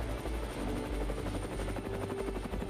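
An AH-64E Apache Guardian attack helicopter thrums steadily with rhythmic rotor beating and a heavy low drone, sounding fairly close and alone without talk.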